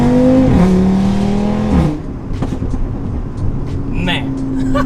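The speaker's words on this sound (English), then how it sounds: "And then obviously the exhaust crackle." Modified 2018 Audi RS3 pulling hard out of a corner, a loud close engine note rising then dropping away, followed by sharp exhaust crackles and pops near the end.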